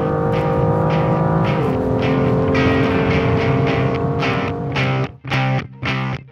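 A BMW M2 is driven hard on a race track, its engine roaring loudly with a rising, shifting pitch, then cutting in and out in sharp bursts near the end as the throttle lifts and reapplies.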